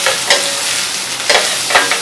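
Chopped leek hits a hot pan for a nettle risotto, setting off a steady close sizzle with a few louder bursts of frying as it is stirred.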